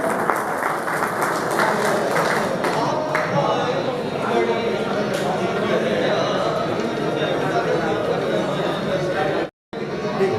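Dense, sustained applause from an audience at an Engineers Day celebration, loud and continuous with crowd chatter mixed in, cutting off briefly near the end.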